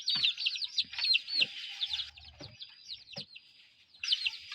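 Young chickens that have been vaccinated, white-eared fowl, cluck and chirp in a run of short, high, overlapping calls, fairly close and moderately loud, with brief pauses between bursts.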